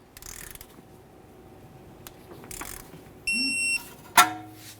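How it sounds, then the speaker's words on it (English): A torque wrench snugs the front sway bar end link nut to 46 foot-pounds on a 2003-2011 Mercury Grand Marquis. Soft ratcheting gives way to a brief tone and one sharp, close click near the end. "Torque this nut to 46 foot-pounds."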